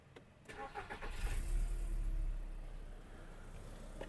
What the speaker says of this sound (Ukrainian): Мотор заводиться чітко, рівно, не димить, не троїть, без технічних зауважень.